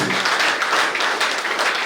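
Audience applause at a JCI Puttur week event, a steady dense wash of many hands clapping for about two seconds without pause.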